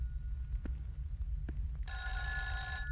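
A telephone bell bursts into a sustained, bright ring partway through, after a few soft low thumps over a steady low hum.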